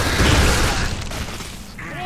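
A boom from an explosion in the video game Gears of War 3 during Horde mode, a loud blast that fades out quickly, with players talking over it.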